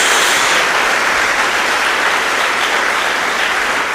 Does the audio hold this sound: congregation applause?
yes